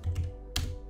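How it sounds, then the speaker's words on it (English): A couple of quick key taps on a computer keyboard, close and crisp, the second press a little louder, with no talk. "retype things out, hit enter on my keyboard"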